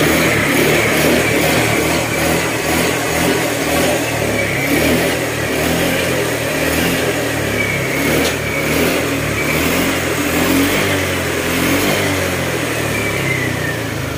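A Honda Click scooter engine runs steadily and close after an oil change to clear oil mixed with coolant, giving a constant mid-pitched idle with light rhythmic ticking throughout.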